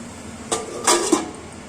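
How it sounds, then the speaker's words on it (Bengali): A lid set down on a cooking pot of vegetables for sabudana polao gives a couple of short, close metallic clinks, with a light rattle as it settles. "আমি আরও একবার ঢাকা দিয়ে দেব।"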